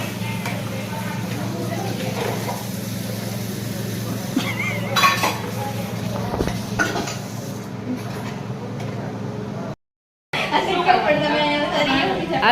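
Pots, dishes and utensils clatter and clink in a busy home kitchen, with scattered metallic knocks and chinks under constant chatter, a brief dropout near the end, then more clinking.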